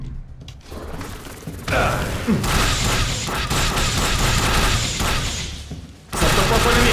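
Bursts of rapid gunfire and mechanical clatter from the video game The Bureau: XCOM Declassified fill the clip, loud and continuous, with a brief drop near the end before firing resumes.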